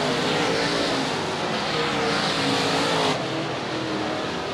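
UMP open wheel modified race cars at All Tech Raceway during a feature race, with engines roaring hard on the gas in a loud, continuous sustained drone, and an announcer talking over them.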